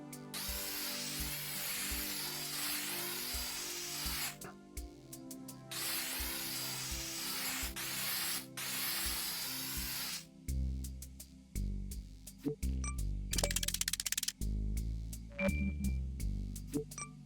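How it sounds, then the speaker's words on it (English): A vehicle gets spray-painted hot pink in the Mars First Logistics video game, with long hissing bursts of spray separated by pauses, then a run of clicking, ratcheting mechanical tool sounds and one more short spray. "maybe I'll spray paint this whole thing hot pink"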